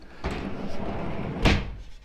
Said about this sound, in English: So we have this little panel that comes off